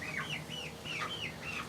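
Chickens and chicks in a coop give a run of repeated high chirping calls, about six rising-and-falling peeps in quick succession, close and fairly loud over a low background hum.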